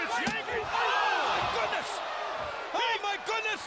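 A wrestler is clobbered in a pro wrestling ring: sharp impact slams and thuds stand out over a loud arena crowd, with commentators talking excitedly throughout.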